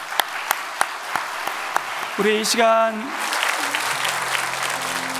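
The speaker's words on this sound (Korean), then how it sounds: "성도 여러분, 이 시간 우리 입교된 우리 주의 지체들을 박수로 환영하겠습니다." A church congregation claps to welcome new members at a Sunday service; after a spoken line and a short tonal passage, dense, steady applause fills the hall and carries on to the end.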